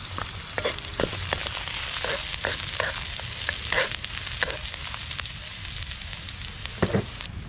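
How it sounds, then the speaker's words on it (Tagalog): Garlic and onion sauté in a hot pan with a steady bright sizzle, punctuated by scattered sharp clicks and scrapes of stirring, close and continuous without talk. "nagisa na natin yung bawang at sibuyas"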